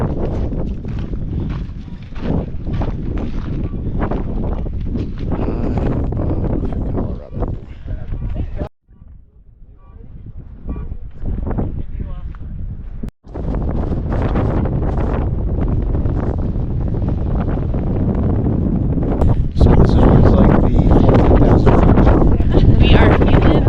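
Wind buffeting the microphone at the high, cold summit of Pikes Peak in Colorado, a loud, steady roar that drops briefly and then returns, with people talking over it.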